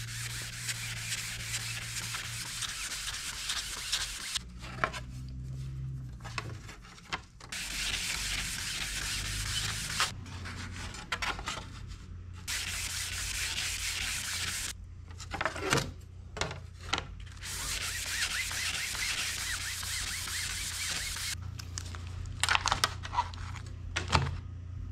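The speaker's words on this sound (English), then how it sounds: "Okay, so I think that's enough sanding." Steady abrasive rubbing in long bursts with brief pauses, a Scotch-Brite pad sanding a G10 3D printer build plate to a matte surface, a close scratchy hiss over a low motor hum.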